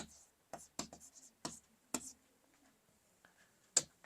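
Writing on a board during a classroom lesson: a series of sharp taps and scratchy strokes at an uneven pace, close but fairly faint, with a soft background hum.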